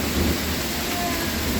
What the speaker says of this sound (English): This is non-stop lightning and thunder.